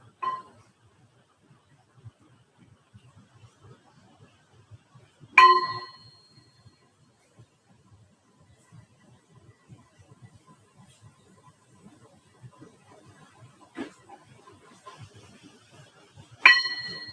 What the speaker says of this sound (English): I'm going to invite a bell.